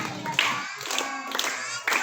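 Sharp, irregular hand claps come from children in a Quran learning class during a counting clap game, with several crisp bursts over light background voices.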